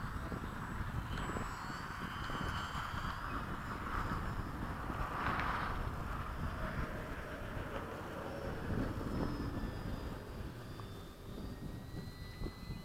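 An 80mm FMS Hawk electric ducted-fan RC jet flying at full throttle at a flying field, a continuous rushing roar with faint whine that swells and recedes slightly as it passes.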